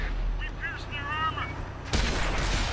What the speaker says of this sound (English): Third shot into the Leopard prototype finishes him off.